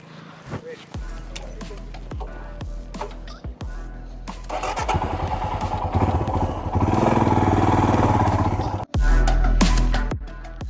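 A Royal Enfield Himalayan BS6 motorcycle engine is started and revved, with clicks and thumps early, then a rising throbbing idle and louder revs near the end, while a person talks over it.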